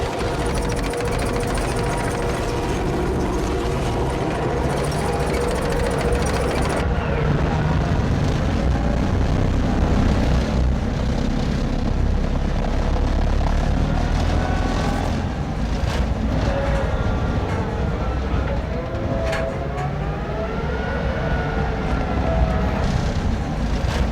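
Bradley Fighting Vehicle, a tracked military vehicle, drives and pivots with a continuous loud engine roar and grinding, clattering track noise, steady throughout with shifting whines as it turns.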